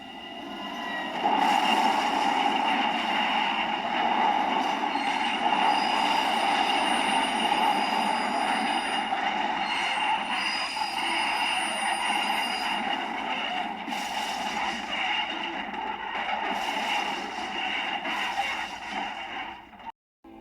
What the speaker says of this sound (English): The men could only watch in horror as the train fell out of the unfinished bridge